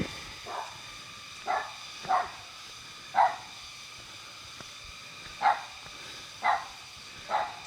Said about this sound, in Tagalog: tsaka yung tawol ng aso lang marinig